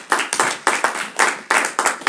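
A church congregation claps during a Sunday service, loud and close, with irregular bursts of hand claps that swell and restart several times without pause.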